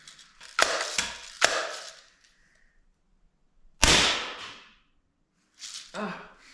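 A pump BB gun being pumped and fired: a few sharp mechanical clacks and snaps, then a loud crack with a hissing tail and one more click, close by with silence between.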